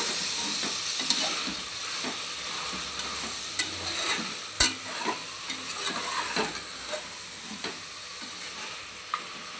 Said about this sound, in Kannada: ಶುಂಠಿ ಬೆಳ್ಳುಳ್ಳಿದು ಹಸಿ ವಾಸನೆ ಹೋಗೋವರೆಗೂ ಚೆನ್ನಾಗಿ ಹುರ್ಕೊಂಡಿದ್ದೀನಿ.